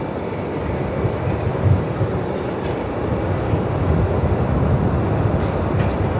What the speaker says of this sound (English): Love the sound of the 330s overhead